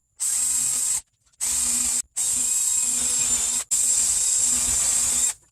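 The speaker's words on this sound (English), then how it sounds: "we're going to pre-drill our 3 holes" Power drill pre-drilling three pilot holes for hinge screws while building a wooden storage shed: four loud, close whirring bursts of about a second each, separated by short silent gaps.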